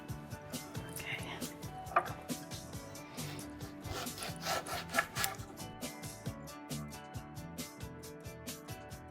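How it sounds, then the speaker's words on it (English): Limes are rubbed by hand in a kitchen, giving close, irregular scraping and squeaking strokes that repeat unevenly, while someone talks quietly at times. "We like rubbing the limes."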